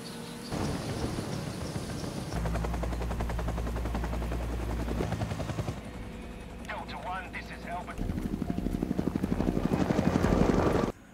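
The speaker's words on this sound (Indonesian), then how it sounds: "dua helikopter itu berhasil mengirim amunisi dengan selamat" Military helicopters flying in a Vietnam War film battle scene, their loud, steady rotor thump dominating throughout, with bursts of gunfire and voices mixed in beneath.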